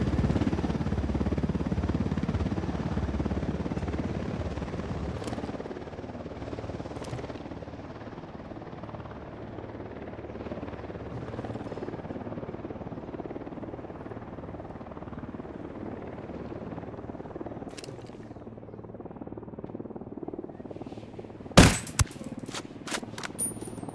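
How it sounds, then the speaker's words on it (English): A helicopter in the video game Ghost Recon Wildlands roars with a loud low rotor drone that gradually fades and thins, followed near the end by a sharp burst of gunfire. "Hit the dirt! Helicopter!"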